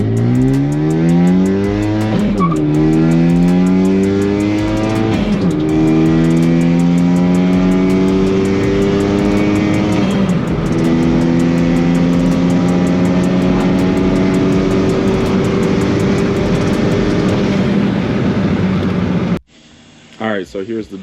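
A stock car on a budget drag-race build accelerates hard through several gears, its engine note climbing steeply and dropping at each shift, loud and close, before cutting off abruptly near the end.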